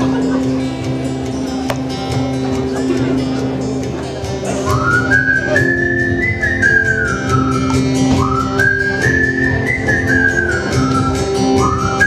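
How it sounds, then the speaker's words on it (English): A crowd whistles a rising and falling melody along with a live song, two clear whistled phrases over sustained instruments and hum. "whistle a little bit."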